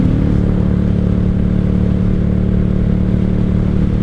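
1995 Honda Shadow VLX 600 (VT600CD) V-twin pulling steadily under acceleration in third gear, a loud, continuous low engine drone with wind rush, heard from the rider's seat and without speech.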